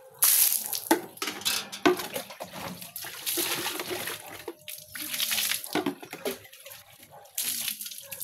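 Water splashing and running as a container used for hauling grass is rinsed and scrubbed, with intermittent pours and sloshes at close range and a little background talk.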